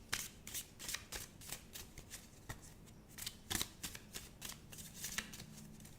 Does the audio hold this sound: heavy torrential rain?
no